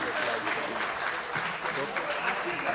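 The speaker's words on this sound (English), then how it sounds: "With a clap ovation, let's welcome them to the podium." Conference audience clapping to welcome presenters to the podium, a moderate continuous patter of hands heard from a distance at fairly low level.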